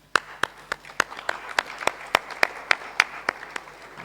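A class claps along in a steady rhythm during a Krishna Book class, about a dozen evenly spaced sharp claps sounding in unison, distinct and fairly close.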